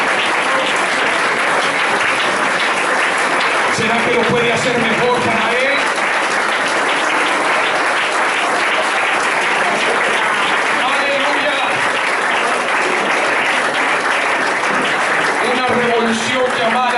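A church congregation applauds loudly and continuously during a revival service at IPUC Arboleda, Caldas, with a preacher's voice speaking in Spanish over the dense clapping.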